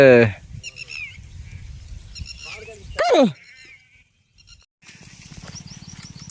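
Sheep bleat loudly and close by in a wet, muddy field after rain. Several calls come in short bursts with quiet gaps between them, and a low background murmur of activity runs underneath.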